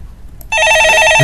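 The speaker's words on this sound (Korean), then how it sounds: "전화 받아보겠습니다." Telephone at a radio studio rings loudly and close, a sudden electronic bell tone that starts abruptly and holds steady.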